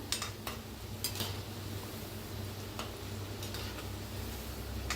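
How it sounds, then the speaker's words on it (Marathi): Shankarpali pieces of maida dough deep-frying in hot oil, a steady soft bubbling fizz throughout with occasional light clinks of a utensil, close and continuous, no voices. "किती छान असं तळायला लागलेलं आहे"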